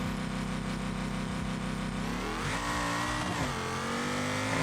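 A drag truck in BeamNG launches hard in four-wheel drive, its engine revving high and climbing steadily through the gears, loud and continuous with no talking over it.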